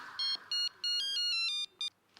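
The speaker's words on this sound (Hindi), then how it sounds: "किसी का फोन बज रहा है।" A phone ringtone chirps in a quick electronic melody of repeated short beeps, close and clear, with a faint voice beneath at the start.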